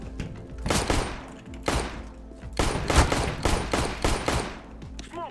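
Bursts of rapid gunfire in CS:GO crack out in several loud volleys, short pauses between them, with no talking.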